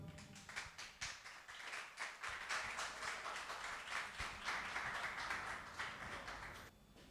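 Audience applause fills a poetry event as a poet is welcomed on stage, a steady wash of many hands clapping at moderate loudness for several seconds, with no talking over it.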